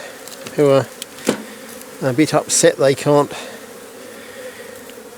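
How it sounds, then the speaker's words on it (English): Honeybee drones in a hive buzz loudly in short close bursts, a deep droning hum rising and falling over a quieter background of bee activity, with a person speaking briefly. "And here we have a few drones trying to get out"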